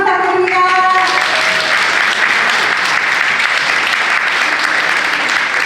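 Sustained audience applause at the opening ceremony of a Korean family gathering event, dense and steady clapping from a crowd filling the whole stretch, with a brief tonal sound at the very start before the clapping takes over.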